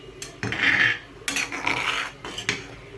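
Vegetables being chopped in a home kitchen while noodles boil for chowmein, with a few close, scraping knife-and-board strokes in separate bursts and soft clatter between them.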